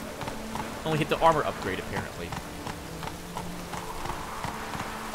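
Horse hooves clip-clop at a steady run in The Witcher 3, with a person talking over the middle section and the hoofbeats continuing beneath a rainy, noisy backdrop.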